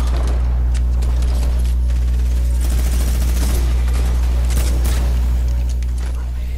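Rapid bursts of gunfire from Fortnite play over a steady low electronic hum, with sharp shots clustering in the middle and loudness staying fairly even throughout.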